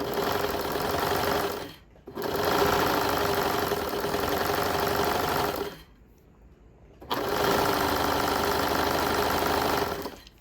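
A sewing machine stitches elastic onto swimwear in three long, loud, steady runs at close range, broken by two short pauses.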